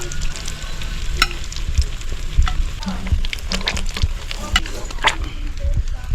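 Hot cooking oil sizzles loudly for lobster being fried at home, a close, steady crackle broken by sharp pops and spatters, with a faint voice briefly in the background.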